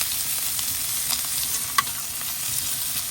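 Rib eye steak fries in a hot pan with rosemary leaves and lightly crushed garlic, giving a steady, close sizzle with a faint stir or scrape and one brief click partway through.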